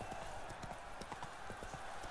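Horse hooves clip-clop at a steady, rhythmic gait in the video game The Witcher 3: Blood and Wine, moderately quiet and continuous with no voices over the hoofbeats.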